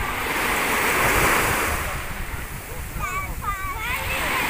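Sea surf rolls onto a beach with a continuous loud wash and wind rumble, close by, while a high faint voice or cry rises briefly in the second half.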